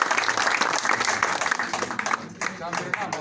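Audience at a local sector gathering claps in a dense, steady burst of applause for the sector leader, with a voice speaking over the clapping as it thins out.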